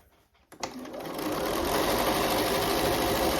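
A sewing machine back stitches straight across the lining of a small handmade gift, starting with a click before a loud, close, continuous motor hum and needle rattle.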